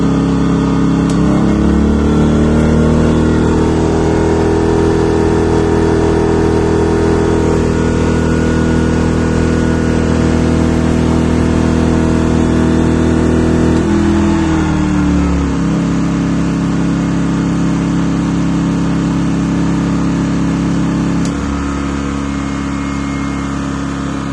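An AKSA AAP 2200i inverter generator runs steadily and loud throughout, its engine note holding level before easing to a slightly lower, settled pitch partway through, with no talking.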